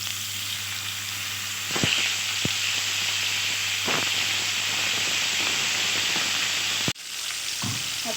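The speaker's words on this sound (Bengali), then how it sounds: "অপর মোচাগুলো ভেজে নেব।" Banana flower fritters sizzle steadily in hot oil in a home kitchen, a continuous close frying hiss with a few soft clicks and a brief clatter near the end.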